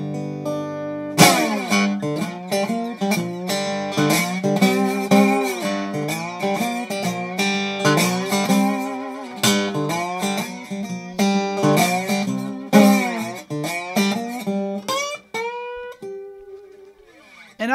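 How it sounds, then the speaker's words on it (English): Slide guitar in open G tuning playing a lively tune with dense, gliding harmonic notes and strummed chords, loud and continuous throughout before ending on a sustained note. "When people think about slide guitar, they usually think about sounds like this."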